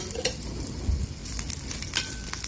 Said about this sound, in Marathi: हे पण मी आता छान थोडंसं तेल घालून भाजून घेणार आहे।